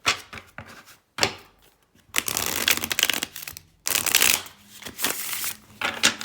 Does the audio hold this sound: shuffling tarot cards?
yes